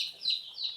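Chickens on a Sonali chicken farm give two short, high-pitched clucks or cheeps in quick succession, faint and close, with no talking.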